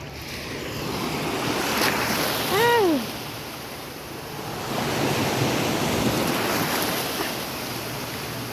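Sea waves breaking against the stone walls of the fort at Saint-Malo in Brittany, a continuous wash of surf with wind buffeting the microphone and a brief faint whistle-like chirp partway through.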